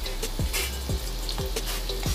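Garlic frying in a pan in oil: a steady crackling sizzle with soft periodic scraping or stirring strokes, close and continuous.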